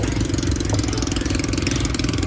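Honda Beat scooter engine idles with a steady, noisy drone and a hissing leak from a loose hose, close and continuous without a break.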